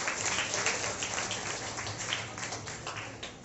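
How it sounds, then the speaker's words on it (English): A roomful of about 100 people giving a round of applause for two students, a soft, steady patter of many hands heard at a distance and fairly faint. "Can we have a round of applause for both the students, please?"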